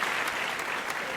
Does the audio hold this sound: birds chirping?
no